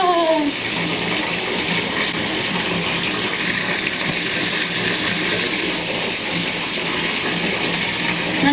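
Steady running water filling a bathtub with a bath bomb, a continuous gushing and splashing that holds at an even level throughout without pause.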